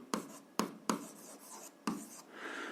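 A pen writes out a 7th-grade algebra solution on paper, giving four quiet, separate scratchy strokes followed by a softer, longer scribble, close up with no voices.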